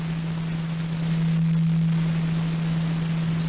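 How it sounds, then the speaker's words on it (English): Pink noise from a Moog Model 15 synthesizer app on iPad, a continuous broadband hiss with a steady low hum tone running beneath it, loud and unbroken throughout with no talking. "Let's try passing in some pink noise to the voltage control input."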